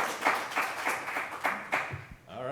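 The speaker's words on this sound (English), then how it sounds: "round of applause for Dr. Warren" Audience applause for a speaker at an emergency-medicine conference showcase, a few moderate waves of clapping that swell and fade, then trail off as a voice begins near the end.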